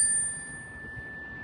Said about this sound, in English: we're going to close with one more sound of the bell